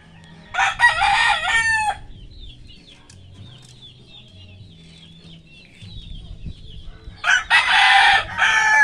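A rooster crows twice, a loud wavering call near the start and another near the end, with softer clucks, faint chatter and low background noise in between.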